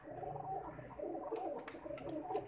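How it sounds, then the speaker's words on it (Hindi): Sixteen pigeons kept in a cage give soft, low cooing that rolls on steadily at a moderate, close distance, with no voices over it. "अब ये इस केज में हमने 16 कबूतर छोड़े हैं टोटली, 16 के 16 उड़ाने के लिए।"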